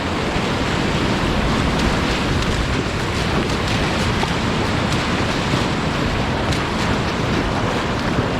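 Continuous loud rushing whitewater splashes around a Dragorossi DRX kayak as it blasts through holes and waves on river rapids, a steady broadband roar with wind buffeting the microphone throughout.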